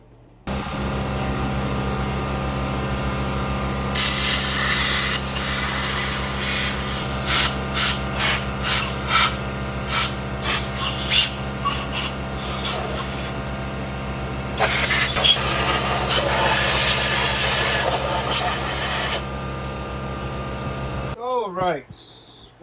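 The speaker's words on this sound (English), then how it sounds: "I'm gonna go ahead and blow it all out with an air gun" A compressed air gun blows metal shavings out of a Hyundai 3.3L engine block from a 2014 Santa Fe. Two long, loud hissing blasts, each with short choppy bursts, ride over a steady low machine hum.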